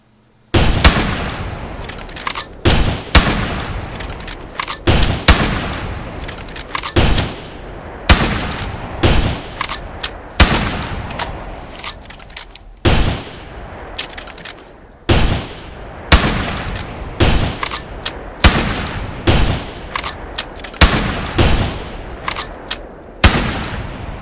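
A rifle in the hunting game theHunter, set in the Outback, fires ten sharp shots in quick irregular succession, each crack followed by a brief mechanical rattle of the reload.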